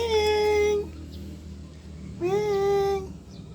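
A small, frightened kitten gives two loud, close meows, each a drawn-out high cry with a slight rise, separated by a short pause.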